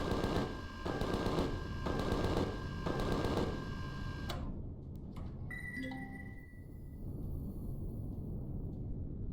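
Turret gunfire in Empyrion: Galactic Survival: several rhythmic bursts of rapid automatic fire over a dense game ambience. The shooting stops midway, leaving tonal electronic beeps and a steady background rumble.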